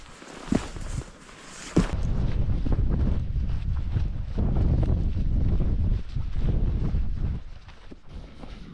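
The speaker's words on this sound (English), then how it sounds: "A big difference, that wind, isn't it?" Strong gusting wind on a mountain top in the Brecon Beacons buffets the microphone in heavy, uneven roaring rushes, with a couple of sharp knocks near the start.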